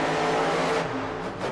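El Toro monster truck engine roaring loud and close inside Millennium Stadium at a Cardiff Monster Jam freestyle run, a sustained heavy rumble with the throttle rising and dipping, no talk over it.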